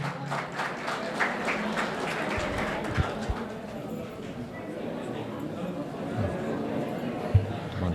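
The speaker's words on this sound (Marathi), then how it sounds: "तसंच 1986चे जे आमचे माजी विद्यार्थी सिनियर आलेले आहेत त्यांच्यासाठी पण जोरदार टाळ्या झाल्या पाहिजेत" An audience claps at a 2024 alumni reunion of GAC Dharashiv, with a Marathi announcer calling for applause for the 1986 batch seniors. The clapping is steady, moderately loud and mixed with crowd chatter, with a few sharp peaks.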